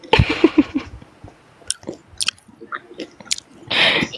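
Someone close by chews a biscuit, a run of crunchy, moist bites after a brief burst of talk at the start, with one louder crunch near the end.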